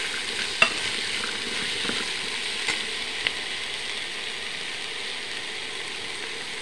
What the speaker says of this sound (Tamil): வெஜிடபிள்ஸ்லாம் கொஞ்சம் நல்லா வதக்கிடுங்க.